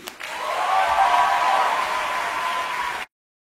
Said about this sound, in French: Faites un tonnerre d'applaudissements pour la troupe de We Will Rock You.